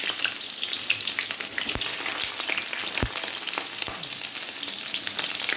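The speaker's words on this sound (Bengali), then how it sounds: "বেগুনটাকে ভাজা হোক, তুলে নেবে" Big chunks of eggplant fry in hot oil, giving a steady dense sizzle with occasional sharp pops and crackles. No one speaks over it.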